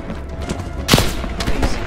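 A short burst of gunfire in Call of Duty Black Ops Cold War, one sharp loud shot followed by quicker, fainter reports, close and punchy over a busy battle backdrop.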